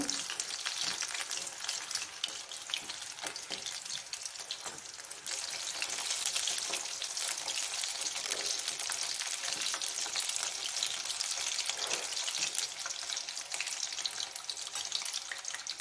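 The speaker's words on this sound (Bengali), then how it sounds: "মোটামুটি ভাজা হয়ে এসছে, একটু গোল্ডেন কালার হলে তুলে নেব।" Mini samosas deep frying in hot oil, giving a steady, close, dense sizzle and crackle that runs unbroken for the whole stretch, with no talking.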